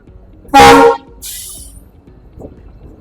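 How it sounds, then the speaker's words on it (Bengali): A train pulling into Badarpur station sounds one loud, sustained horn blast lasting under half a second, then a brief hiss of air, with low rumbling station ambience and no talking. "এখন আয়া বদরপুর ঢুকছে ট্রেন।"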